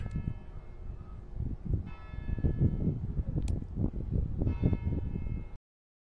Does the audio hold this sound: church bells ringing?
yes